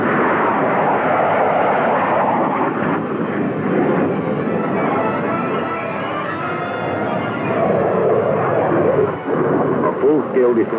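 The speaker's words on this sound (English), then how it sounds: "more supersonic interceptors will be scrambled" Supersonic interceptor jets scramble for air defense, a loud, steady broadband jet roar that fills the whole span, with a narrator speaking over it.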